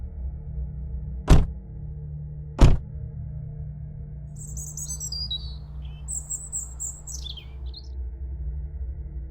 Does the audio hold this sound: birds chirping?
yes